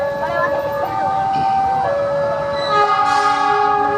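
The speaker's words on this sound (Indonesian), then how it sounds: "klaksonnya udah kedengaran" Horn of the Manahan passenger train, arriving from the north line into Lampuyangan Station, sounds in long sustained tonal blasts over steady rail rumble, loud and close, with a pitch shift near the end.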